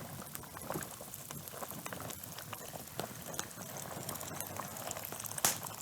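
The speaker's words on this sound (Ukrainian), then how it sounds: "І заливаємо окропом трошечки." Boiling water from a kettle is poured into a pot of Cossack kulish, a soft continuous splashing gurgle heard close and fairly quiet.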